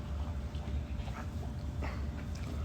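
A dog whimpers in short, soft bursts over steady outdoor background noise, with no talk.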